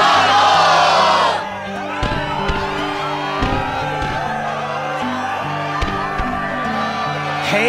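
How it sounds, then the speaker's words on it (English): A fired-up crowd roars and whoops in the Kingdom Hearts 2 Final Mix Struggle arena. The cheering is loudest at the start, then drops under steady game music and scattered shouts. "the crowd is fired up"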